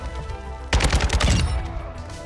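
An RPK light machine gun fired in Modern Warfare 2, a short loud burst of rapid automatic shots up close over the game's background sound.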